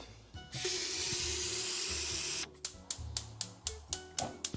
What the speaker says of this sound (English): We're going to go and fill this bad boy up with water